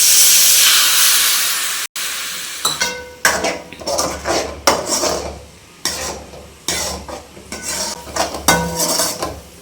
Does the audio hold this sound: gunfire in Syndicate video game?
no